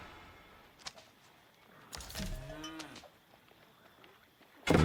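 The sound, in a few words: cow mooing in the video game Age of Empires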